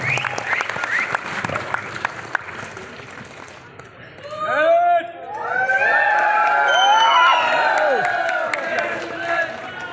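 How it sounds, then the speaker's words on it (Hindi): An audience applauds at an RCM Pearl celebration event in Bhilwara, Rajasthan, as a guest is welcomed on stage. Clapping and cheering swell after a few seconds and then hold loud and sustained, with a voice over the crowd at the start. "आपकी जोरदार तालियों के बीच में"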